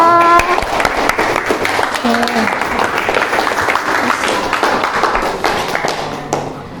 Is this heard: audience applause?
yes